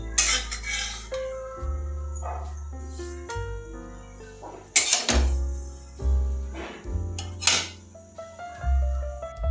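Repeated metallic clinks and scrapes of a utensil against a pan as roasted sesame seeds are moved out of it, with ringing tones between bursts, close and fairly loud.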